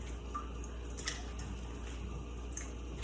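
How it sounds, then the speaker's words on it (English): Water bubbling at a steady boil, a continuous close rush dotted with small pops and gurgles, with no voices. "our pasta water is boiling nicely"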